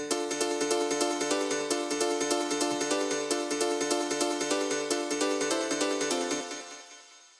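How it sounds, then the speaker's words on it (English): A Korg M1 house piano patch plays alone, bright stacked chords struck in a steady, punchy rhythm for about six seconds before ringing out and fading. "and that is just the M1 house piano."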